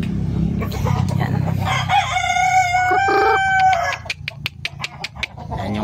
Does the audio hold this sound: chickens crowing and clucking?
yes